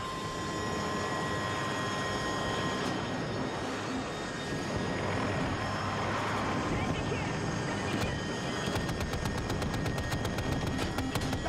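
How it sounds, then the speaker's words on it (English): Gunfire in the Battlefield 2042 video game crackles over a constant aircraft drone, turning into a fast regular burst of automatic shots toward the end, with voices speaking over the action. "Shots fired! Front side!"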